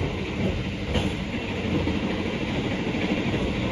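Taksaka passenger train on the Jogja–Jakarta line running along the rails past Jenar station, heard from inside: a steady, loud rumble with rhythmic wheel clatter throughout, no talking.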